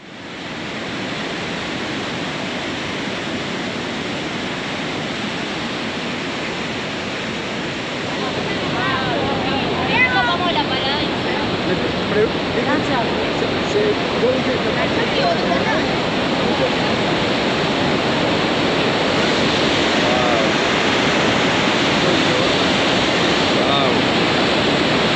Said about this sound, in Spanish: toda esta agua que venimos recorriendo por unos 2 kilómetros sobre el agua, se va a esta gran depresión de aquí